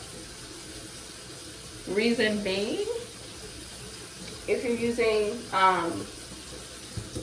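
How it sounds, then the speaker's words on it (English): Lukewarm tap water runs into a sink during a morning skincare routine, a constant soft rushing hiss that continues while a person talks over it. "And then you're just gonna go in with water."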